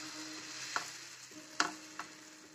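Dosa batter made from jackfruit pulp being spread across a hot pan, with a soft steady sizzle and three sharp scraping taps from the spreading utensil, quiet and close with no talking.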